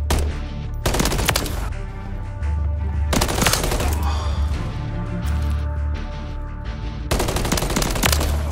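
Automatic and single gunfire in Modern Warfare 3 multiplayer, with loud bursts of machine-gun fire around one, three and seven seconds over a constant din of battle noise, rumble and background explosions.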